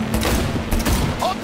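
Gunfire from the video game Cyberpunk 2077, dense and loud bursts of rapid shots during a car chase, with shouting voices mixed in.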